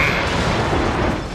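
A weapon test-firing in an animated series, heard as a loud, dense, sustained roaring blast that fills the whole short moment with broad noise and fades slightly at the end.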